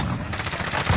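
Gunfire from the video game Call of Duty Warzone, a short burst of rapid shots in quick succession, fairly faint and dense.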